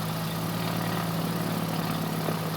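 A light aircraft piston engine idles at 1000 RPM in a steady, low droning hum with a constant tonal rumble, even and unbroken throughout, heard without speech.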